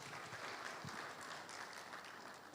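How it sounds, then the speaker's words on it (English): A conference audience claps for a guest at an Africa investment demo day, steady dense applause throughout, moderately distant and even in level. "we can give him a round of applause,"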